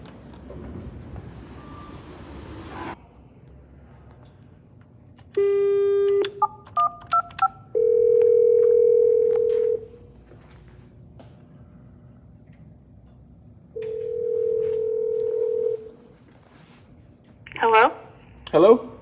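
A lobby telephone hums with background noise before a series of loud, steady tones sound, including a long continuous dial tone and further tone segments, with a short burst of warbling beeps near the end.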